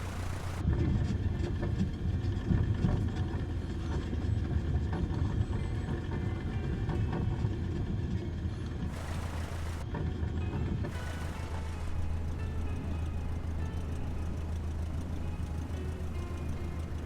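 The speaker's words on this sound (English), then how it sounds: "sounds like a little tractor, this Cessna" A Cessna engine in Microsoft Flight Simulator drones in a steady low hum through the whole stretch, with two short bursts of broadband noise partway through.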